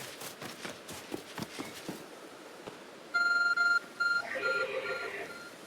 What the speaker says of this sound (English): There's a glowing, beeping object over there.